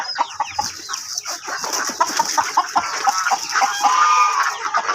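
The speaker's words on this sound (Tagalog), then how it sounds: "at yung mga sisiyo natin. Medyo malalaki na." Nearly grown chicks peep and cluck continuously inside a dim chicken coop, many close voices overlapping in a busy, chattering texture.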